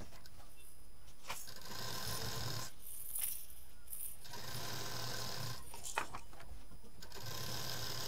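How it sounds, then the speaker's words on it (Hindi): A sewing machine stitches fabric for a baby toy pillow, giving a steady close mechanical whir that runs in stretches, broken by brief pauses and small clicks. "यहाँ से रख के सिलना शुरू करेंगे"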